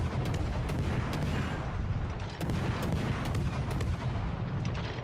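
Warship guns fire in World of Warships: Legends, with repeated heavy booms and rumbling salvos stacking up into a dense, continuous barrage with no talk over it.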